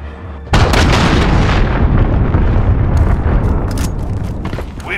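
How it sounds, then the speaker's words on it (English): A cruise missile explodes in a Modern Warfare match on the Atlas Superstore map: a sudden loud boom hits, then settles into a long, rumbling roar with scattered crackles. "Enemy cruise missile incoming!"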